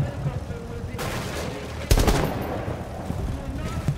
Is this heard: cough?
no